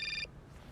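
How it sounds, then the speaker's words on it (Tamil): A telephone ringing in the adventure game Syberia, a single short electronic trill that cuts off almost at once, leaving quiet room tone. "யாரோ ஃபோன் பண்ணுறாங்க."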